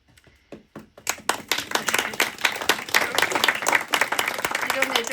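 At a St Brigid poetry reading, a few scattered claps open, then the audience swells into brisk, steady clapping that stays loud to the end, with a voice faintly under it.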